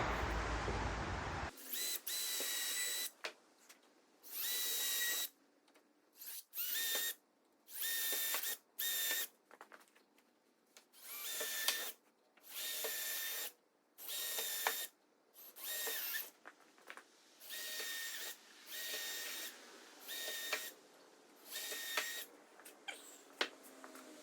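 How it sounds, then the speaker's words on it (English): An 8-inch drill bit bores through two pieces of wood in a long series of short, loud drilling bursts with pauses between them, close and alone. "I got this 8-inch drill bit. I want to at least go through the wood, both pieces of wood, to mark my holes"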